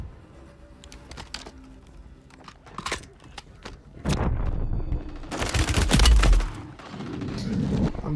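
Automatic gunfire in Call of Duty: Modern Warfare 3 Warzone Resurgence, played on Xbox Series X, with bursts of shots growing louder and denser in the second half over game ambience.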